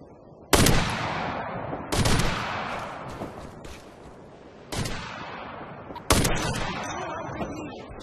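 Four loud, separate gunshot bursts in Operation Flashpoint: Red River, each a sharp crack with a long rolling echo fading out before the next, spaced a couple of seconds apart.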